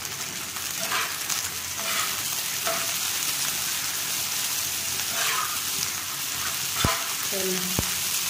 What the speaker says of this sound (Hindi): कीमे को हम फ्राई करते हैं हल्का सा लहसुन और प्याज के साथ